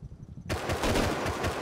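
Automatic gunfire bursts out after a brief quiet start in the survival game Rust, a dense rapid rattle that fills the rest of the short moment, close and loud with no talking.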